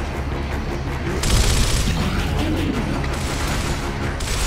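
Gunfire in the Gears of War video game, with sniper rifles in play, heard as a dense, loud wall of shots and booms that runs throughout with no gaps.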